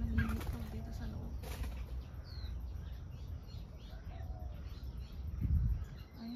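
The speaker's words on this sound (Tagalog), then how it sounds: "ang dami ibon dito" Many birds, including pigeons, flapping and cooing indoors, with a continuous flutter of wings and scattered coos and chirps amid a busy room tone, with a person speaking briefly.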